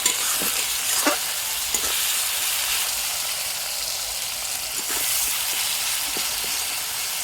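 Tomatoes fry in a generous amount of oil for egg curry, giving a steady, close sizzle with brief crackling pops and occasional stirring clicks, and no talking.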